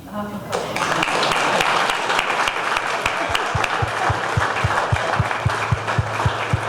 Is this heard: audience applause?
yes